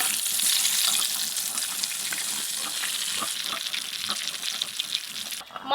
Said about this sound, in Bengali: মাছ আর মাছের তেল ভাজাভাজি হয়ে গেল